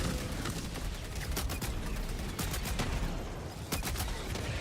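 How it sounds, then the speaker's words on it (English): Rapid bursts of gunfire from the Accelerator weapon in Helldivers 2, loud and dense, with repeated sharp shots and booms layered over constant battle noise for the whole stretch. "the accelerator's blasting him"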